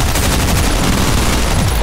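Rapid machine-gun fire in the top-down shooter OTXO, a loud, dense, continuous burst of closely spaced shots with no pauses or talk.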